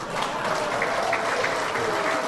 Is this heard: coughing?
no